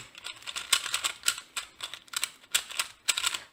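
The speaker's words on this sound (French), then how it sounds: "je vais mélanger mon cube." A 2x2 Rubik's cube being scrambled by hand, quick plastic clicks and clacks arriving in short irregular bursts of turns, close and crisp with no talking.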